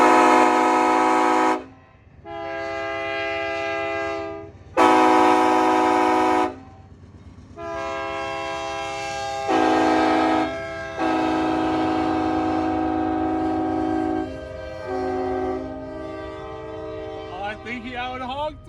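A loud train horn blasts in long sustained tones, answered by a custom-built horn setup honking back in repeated bursts of varying length.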